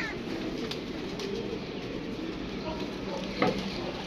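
Pigeons coo softly and faintly at a distance, low murmuring calls over a steady background hiss with a brief louder knock near the end.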